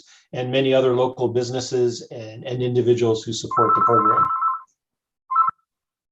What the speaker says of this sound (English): Sorry, that's my phone going off.